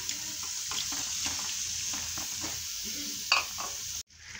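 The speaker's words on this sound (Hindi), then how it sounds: "एक चम्मच अदरक है, एक चम्मच लहसुन का पेस्ट ये हम डालेंगे।" Ginger and garlic paste frying in a pan for kaleji makes a steady soft sizzle, with intermittent scraping stirs and a brief clatter near the end before it cuts off.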